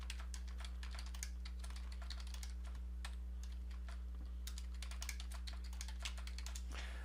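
Rapid clicking keystrokes on a computer keyboard while entering spreadsheet data, steady and close but quiet over a constant low electrical hum, with no voices.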